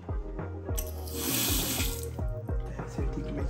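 A tap in a luxury lakeside mansion bathroom pours water into a basin in a steady, close stream, with background music playing throughout.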